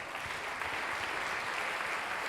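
A conference audience at a talk on meteorological data gives steady applause, a dense even patter of many hands clapping at moderate loudness throughout.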